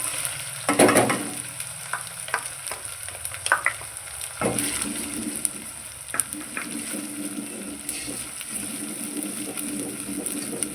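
Rohu fish curry cooks in a pan with a continuous low sizzle of frying, broken by scraping and clattering stirring strokes at irregular intervals, with no talking.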